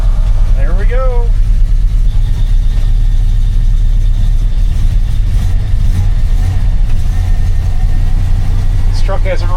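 A 1980 Dodge W200 pickup truck engine idles steadily and loudly throughout on choke, a low constant rumble, with brief squeaky sounds near the start and end.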